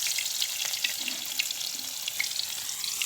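Chopped onion and green chilli fry in oil in a wok, giving a steady close bubbling sizzle with faint crackles throughout and no talking.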